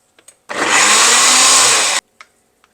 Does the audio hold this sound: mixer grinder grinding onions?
yes